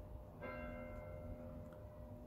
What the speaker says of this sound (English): And here are the bells telling us.